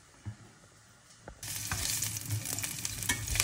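Ginger and onion hit a hot pan and burst into a loud, continuous sizzle after a quiet start with a couple of soft clinks, crackling steadily with occasional stirring scrapes.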